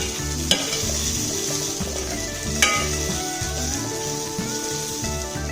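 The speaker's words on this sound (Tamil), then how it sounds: "1 நிமிஷம் நல்லா வதக்கலாம்." Ivy gourd sautéing in a pan for tamarind curry, a steady loud sizzle with stirring scrapes and a couple of sharp utensil clinks, close up and with no talking.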